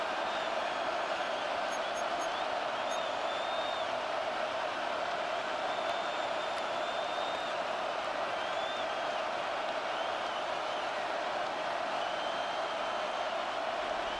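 Stadium crowd in the Madden NFL 26 football video game: a steady, dense roar of cheering at even volume with no break, a few faint whistles and shouts rising out of the wash of noise.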